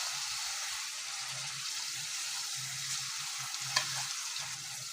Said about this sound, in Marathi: आलं लसूण कोथिंबीर ही पेस्ट परतल्यावर आपण त्यात घालणार आहोत हे पाव किलो पेस्ट केलेले टोमॅटो